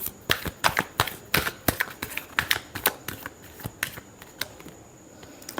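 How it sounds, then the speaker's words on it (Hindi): Tarot cards being shuffled by hand, a series of crisp, quick riffles and slaps in an uneven rhythm, close and clear, gradually softening toward the end with no talking. "last shuffle"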